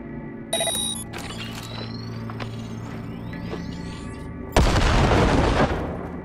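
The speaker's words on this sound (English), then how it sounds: "Now, detonate the grenade" A grenade detonates in Cyberpunk 2077, a sharp loud blast landing late after a quieter stretch of game hum and electronic tones, its rumble decaying over the final second.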